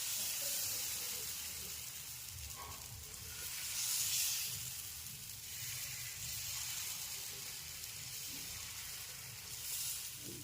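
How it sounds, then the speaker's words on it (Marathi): Rava dosa batter sizzles on a hot pan over a medium flame, a soft, steady hiss with gentle swells and faint scraping. "डोसा मी इथं टाकून घेतला आहे."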